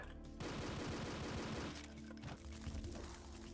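Rapid pistol fire rattles in a Doom map called Pale Wilds, a dense fusillade of close shots layered with game noise and no one speaking.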